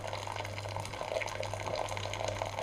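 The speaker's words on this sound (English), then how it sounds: "fill it with tea, fill it with water" Water pours steadily into a samovar, a continuous splashing fill with bright liquid texture lasting a few seconds, close by with no talking.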